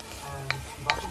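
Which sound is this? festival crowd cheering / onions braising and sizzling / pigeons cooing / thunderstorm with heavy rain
onions braising and sizzling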